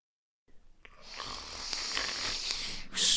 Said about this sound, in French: Et ronflait.